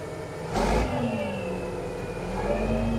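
An old dump truck, just freed after trees were cut off it, revs its engine while the bed raises and dumps for the first time. A steady mid-pitched engine drone swells in a brief loud burst, then holds and climbs gently, close by with no talking.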